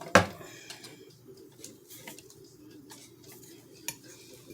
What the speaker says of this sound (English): So we're just gonna stir it around. Get all the seasonings mixed in.